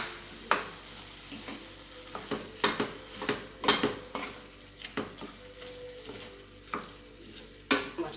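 Thinly sliced onion and vegetables sizzle in a frying pan while a utensil stirs them, with repeated scraping clinks against the pan at an irregular rhythm, close and fairly quiet.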